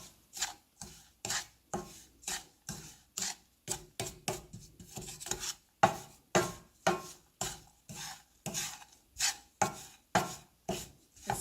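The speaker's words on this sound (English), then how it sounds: "I'm just mixing about 30 ml of melted butter" Roasted gram flour being mixed with about 30 ml of melted butter, giving close, regular rasping scrapes at roughly two strokes per second with no talking.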